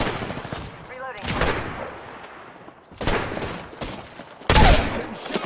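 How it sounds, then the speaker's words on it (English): Bursts of gunfire from the Apex Legends battle royale game, played as Mirage, arrive in loud irregular volleys with a strong blast near the end, mixed with in-game voice lines and other game effects. "Getting shot at."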